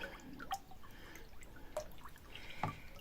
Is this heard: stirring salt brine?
yes